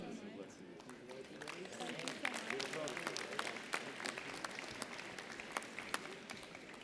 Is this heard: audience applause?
yes